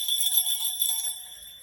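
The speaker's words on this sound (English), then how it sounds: "I got some jingle bells." Small jingle bells for journal charms tinkle and shimmer in a bright, continuous jingle as they are handled up close, softening toward the end with no speech.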